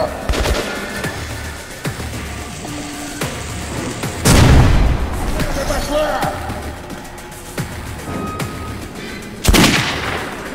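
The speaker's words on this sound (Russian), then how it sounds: "Получай гранату!" Gunfire and a grenade blast in the video game Metro Redux ring out as scattered sharp shots and two heavy booms amid battle noise, with shouting voices mixed in.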